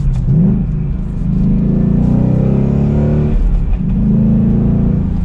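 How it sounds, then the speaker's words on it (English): A Ford Mustang GT Convertible's exhaust in track mode rumbles loudly and steadily, revving up through gears with a deep, throaty roar close by. "You can hear that exhaust get a little bit louder."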